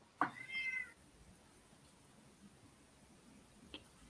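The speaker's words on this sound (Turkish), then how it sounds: "Kedim var evde." A house cat gives a single clear meow indoors, short and fairly close, followed by a quiet room with only faint background noise.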